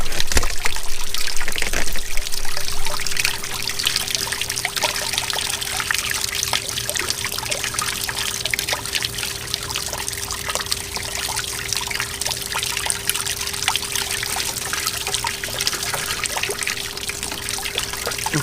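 Water trickles and splashes steadily as an outboard motor is flushed with a hose, a constant close dribble with a thin steady tone running beneath it.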